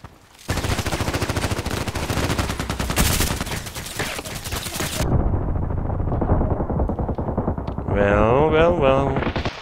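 RPKT tactical machine gun in the online shooter Contract Wars, rapid sustained bursts of loud automatic fire with a short break, then more firing as a voice speaks near the end.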